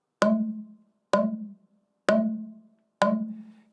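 A Joia tube struck dead on, producing four evenly spaced hits about a second apart, each a bright attack with a boxy, ringing body that decays before the next strike; close and clear, with no talk.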